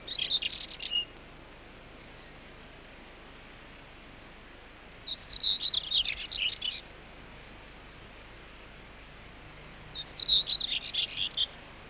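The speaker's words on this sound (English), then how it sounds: "A rufous brown bird of the hedgerows, but with a pure white throat and white outer tail feathers." Song of a rufous brown hedgerow bird with a pure white throat and white outer tail feathers, heard as three short bursts of high, scratchy warbling separated by quiet pauses.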